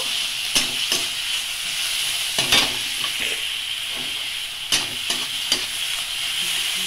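Bathua greens (beto shak) frying in a pan with a little salt, a continuous sizzle broken by repeated sharp scrapes and knocks of a spatula stirring, close and fairly loud with no voices.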